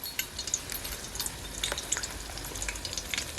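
Corn dogs deep-fry in a pot of oil over a campfire with a steady, close crackling sizzle and scattered sharp pops. Nobody talks.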